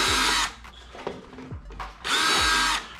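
A power drill with a 3/16 bit cleans up rivet holes on an aluminum jon boat, two loud whirring bursts at the start and end with quieter clicks and handling between them.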